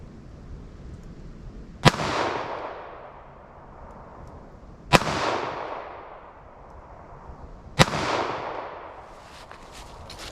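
Three sharp, loud gunshots from a .38 Special snubnose revolver firing wadcutter rounds outdoors, spaced about three seconds apart, each followed by a long rolling echo that fades before the next shot.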